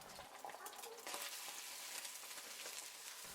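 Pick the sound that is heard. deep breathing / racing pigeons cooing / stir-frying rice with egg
stir-frying rice with egg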